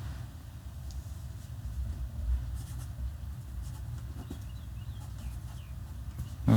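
A pen signs a signature in faint scratching strokes, short and intermittent against a quiet room background, with a louder bump at the very end.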